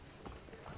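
Horse hooves clip-clop at a run in Assassin's Creed 3, a short burst of quick, muffled hoofbeats with game sounds and faint talk underneath.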